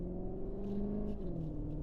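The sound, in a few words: CUPRA Terramar Hybrid engine sound in Cupra mode, played through speakers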